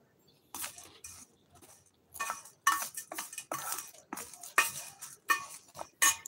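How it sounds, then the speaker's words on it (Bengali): Cutlery clinking against a dish during a tiffin meal of chickpeas and fried potato, sharp metallic taps in irregular bursts, close and fairly loud with quiet gaps between. "এই তো টিফিন খাচ্ছি।"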